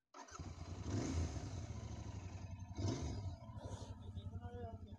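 A big 600 cc motorcycle engine revs hard and steadily, a loud close roar with two surges rising above the drone and no talk over it.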